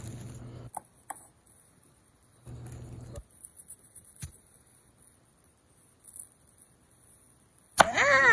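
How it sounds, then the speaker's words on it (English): Knife chopping an onion on a cutting board in a home kitchen, several short bursts of cutting separated by quiet pauses, with a few isolated sharp taps and a louder clatter at the end. "I'm gonna go ahead and cut up this onion."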